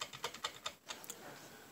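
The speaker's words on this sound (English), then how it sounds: "A membrane keyboard" Quick, soft taps of typing on a membrane computer keyboard, about half a dozen muffled keystrokes in an irregular burst, close and quiet with no talking.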